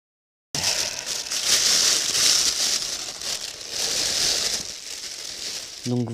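A tall motorcycle windscreen bubble is unpacked from its packaging, giving steady, close crinkling and rustling of plastic wrap for several seconds, with a brief sharper crackle at the end.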